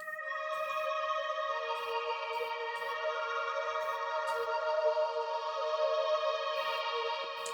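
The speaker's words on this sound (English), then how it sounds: "there's another two pads coming in over here" Two sustained synth pads in a hip-hop music track hold smooth, layered chords. Faint percussive ticks and low thumps sit beneath the pads, and no voices are heard.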